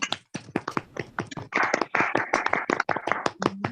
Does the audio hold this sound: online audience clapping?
yes